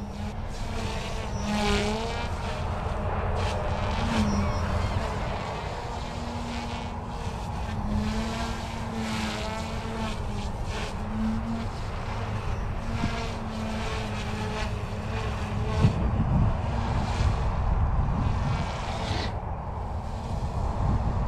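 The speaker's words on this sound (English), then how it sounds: "This is my favorite head speed here to fly the helicopter in." A Goosky S1 RC helicopter flies at its idle-up head speed, giving a steady whirring rotor and motor hum with shifting pitch that stays fairly near throughout and has no talking.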